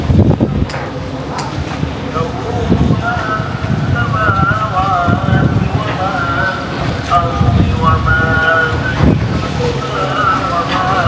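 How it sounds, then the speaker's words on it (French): Wind gusts buffet the microphone outdoors on a cold river boat near Baghdad, with a low rumble of the boat's engine underneath, while people talk over it throughout. "Là il y a un vent, il fait trop froid ici."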